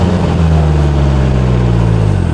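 Polaris Slingshot R engine droning steadily while driving, a loud mid-pitched hum with shifting tones as the automatic gearbox changes gears, heard up close without talk.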